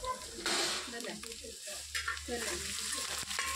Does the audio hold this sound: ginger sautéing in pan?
yes